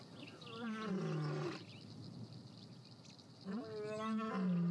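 A male lion in the wild gives two deep, drawn-out roars separated by a quieter pause, each one loud and resonant with a rising, groaning tone over faint insect-like background buzzing.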